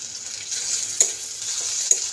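Ginger paste sizzling in hot oil with fried onions in a pan for dim posto curry, a steady bright hiss with two sharp stirring clicks, close and alone.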